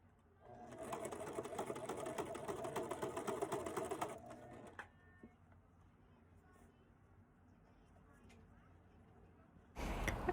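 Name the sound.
sewing machine stitching African print fabric for a scrunchie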